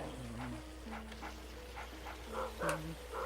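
A dog in Luigi's Mansion barks and yips in a quick series of short, pitched, somewhat stylized calls, moderately loud and close, ending with a sharper louder bark.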